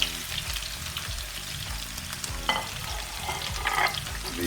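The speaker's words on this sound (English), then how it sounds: "We cook this till the onions start getting transparent." Onions frying in a pan for a tomato gravy base, crackling in hot oil near the listener, with occasional stirring scrapes over a low steady background hum.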